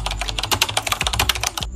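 Quick bursts of computer keyboard typing as a short search query is entered, close and clear with uneven rhythm and no talking.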